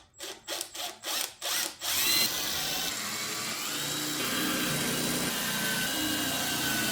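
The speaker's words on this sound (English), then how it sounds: "I'm going to go ahead and countersink these and put in some 3/4 inch wood screws" A power drill countersinks holes for 3/4 inch wood screws in a plywood crosscut sled for a table saw, first in short pulsed bursts and then in a steady, close, loud whine.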